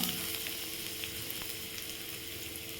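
Garlic, ginger and green chillies sauté in a pan with a steady, close, continuous sizzle of hot oil and no talking.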